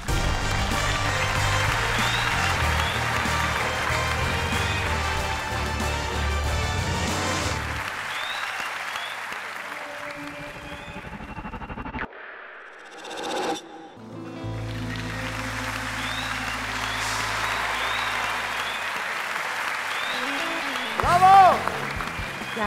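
A large studio audience at a televised singing competition breaks into sustained applause and cheering, then it drops away briefly before a second swell of clapping returns, with voices heard alongside.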